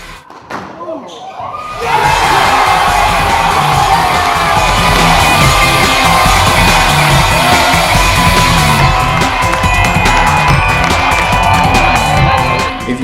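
Loud crowd noise at a college squash match, with a dense roar of cheering and shouting from spectators that swells suddenly after a quieter start and stays sustained throughout.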